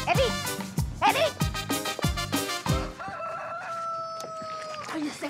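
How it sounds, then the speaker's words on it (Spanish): A rooster crows loudly and close, with a harsh repeated cock-a-doodle-doo in several sharp bursts and a long drawn-out final note. "Oye, ese gallo me tiene harta."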